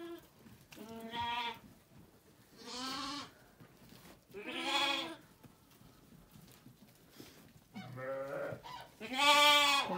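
Goat kids and lambs bleat on a village farm, several distinct wavering cries spaced a second or two apart, fairly close, with quiet ambient sounds between calls.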